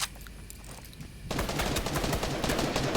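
Rapid automatic gunfire erupts in a Fortnite match after a quieter moment, a dense, loud burst of repeated shots continuing to the end.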